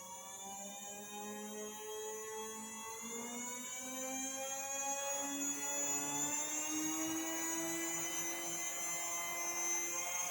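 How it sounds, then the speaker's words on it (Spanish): A small DC motor driven by a buck converter whines as the PWM duty cycle changes. Its layered tonal whir slides steadily in pitch and grows slightly louder, with no one speaking. "Pueden ver gráficamente y por detectar por oído en el sonido que genera el motor cómo se ve reflejado el cambio de ciclo de trabajo."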